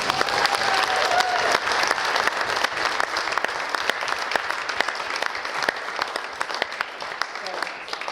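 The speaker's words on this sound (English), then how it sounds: "Can you give us a big round of applause?" A crowd at a squash exhibition in Henderson claps for Paul Coll after a post-match interview, giving sustained, dense applause with sharp individual claps standing out and faint voices murmuring underneath throughout.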